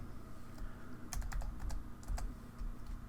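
Keys tapped on a computer keyboard while a file name is entered, a few quick irregular clusters of close, crisp clicks with short pauses between them and no voices.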